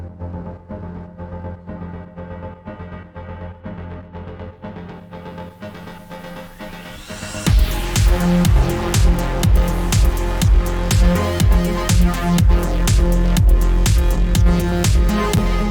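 A modular synth track from a single patch, played on a Multiphonics CV-1, rises through a thin, filtered build-up, then drops into a loud, full groove with punchy beats and a lead synth, with no talking.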